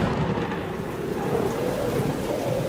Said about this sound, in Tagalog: nang bumuhos ang malakas na ulan